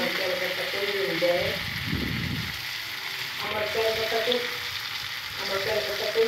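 Chicken pieces frying in a pan for a spiced chicken kosha make a continuous, close crackling sizzle, with a voice talking intermittently over it.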